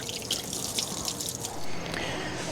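Water from a hose flushing through an RV fresh-water system, heard as light splashing and dripping with a steady trickle underneath, fairly close and without talk.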